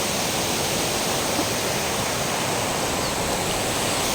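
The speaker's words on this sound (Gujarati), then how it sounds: "પાણી બહુ સ્પીડથી જઈ રહ્યું છે" Fast-flowing river water rushes in a loud, continuous roar close by, steady throughout with no voices.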